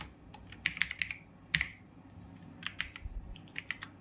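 Fingers tap out text on a computer keyboard in quick uneven bursts, crisp close key clicks with brief pauses between groups, no speech.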